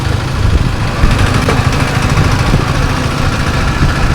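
Close, loud engine rumble from a KTM motorcycle recorded on a ride, a steady low idling drone with slight fluctuations and no one talking.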